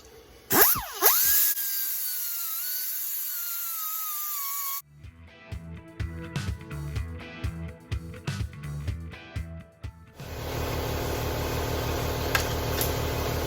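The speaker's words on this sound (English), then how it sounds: "all we're using is a buffer wheel, sanding disc on it right here." A buffer wheel with a sanding disc spins with a steady high whine in a home garage workshop, broken by a stretch of clattering, rhythmic mechanical noise before the whine returns.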